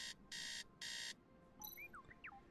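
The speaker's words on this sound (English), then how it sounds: "Beep, beep, beep. Wakey, wakey. It's time to get up." A video game alarm clock beeps in two loud, sustained electronic bursts, then fades into a few softer chirping tones over a steady background hum.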